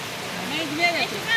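A river in a Konkan village rushes steadily in a constant broadband roar, with a voice talking faintly over it.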